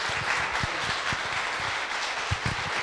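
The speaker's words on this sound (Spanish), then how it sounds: "Un fuerte, pero muy fuerte aplauso para recibirlo." A hall audience at a therapeutic cannabis gathering in El Hoyo, Chubut gives dense, steady applause to welcome a speaker, with scattered low thumps beneath.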